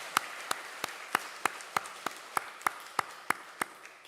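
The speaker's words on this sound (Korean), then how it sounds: "하나님께 영광의 박수를 올리겠습니다." Congregation clapping in unison during a church worship service, about a dozen crisp, evenly spaced claps at roughly three per second, moderately soft and steady with no voices.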